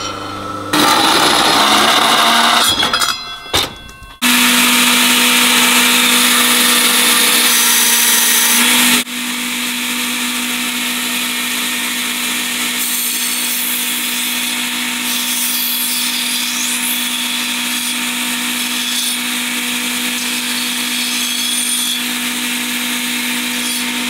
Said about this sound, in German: Und schmaler machen kann ich ja zur Not einfach die Flex einmal reinhalten.